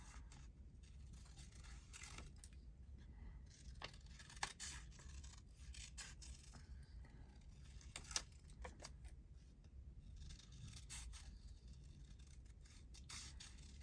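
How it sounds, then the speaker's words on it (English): Large scissors snip through paper while book page tags are cut out, giving a steady run of small close crisp cuts and rasps over a faint low background hum, with no talking. "It's definitely easier if you snip it off at the point."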